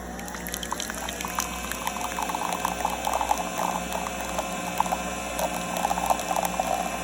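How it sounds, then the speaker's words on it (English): An instant coffee machine brews vanilla coffee with a continuous bubbling, gurgling hiss and spattering liquid, steady and close throughout. "Right now I'm going to use a instant coffee machine to make my vanilla coffee."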